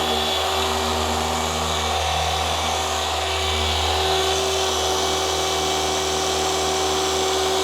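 A paint correction polishing machine spins a microfiber pad with a loud, steady, high-pitched whine that holds unbroken throughout, with no talking.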